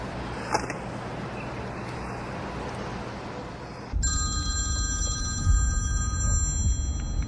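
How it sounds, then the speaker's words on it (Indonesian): A telephone starts ringing partway through, its bright electronic trill repeating steadily over a hissy, noisy indoor background. "Tuan Sui, akhirnya aku dapat teleponmu."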